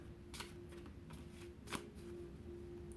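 Cards being shuffled up close: several quick riffling bursts, one louder than the rest, over a low steady hum with no talking.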